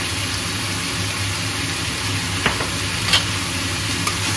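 Ginger, garlic, chilli and whole cumin fry in hot oil for a pork dish, a loud, dense sizzle close up with a few sharp scrapes and clinks of stirring breaking through.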